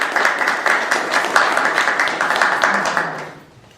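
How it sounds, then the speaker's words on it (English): An audience at a formal gathering claps for a speaker, a close, lively burst of rapid hand claps that holds for a few seconds and then dies away. "Please a round of applause for"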